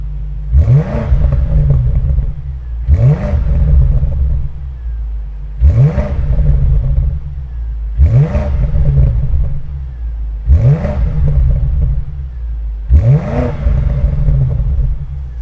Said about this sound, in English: there are the exhaust notes from the V8